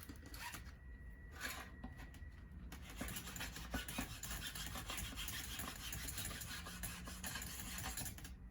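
A wood surface is roughed up and scratched to distress it, giving a steady, quiet scraping and rubbing that continues without talk.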